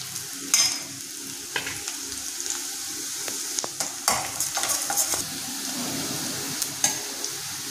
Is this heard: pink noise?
no